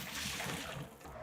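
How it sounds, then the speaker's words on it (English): Liquid pours out of a wok after frying shrimp for seafood pan-fried noodles, a close, continuous splashing trickle that fades slightly toward the end. "Now we gotta pour out the wok"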